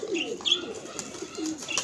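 Pigeons coo and chirp close by in short repeated calls, with light wing or feather rustling under them.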